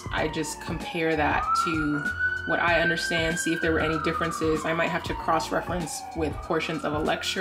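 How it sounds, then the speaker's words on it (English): Police sirens wail outside, a long rising and falling tone drifting steadily beneath continuous close-up speech throughout. "sorry for the sirens"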